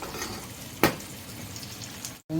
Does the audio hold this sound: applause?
no